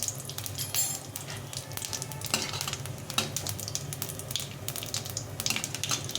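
Dry red chilli, cumin seeds and a bay leaf frying in hot mustard oil, a dense close sizzle with repeated scraping and stirring strokes against the pan throughout, no talking.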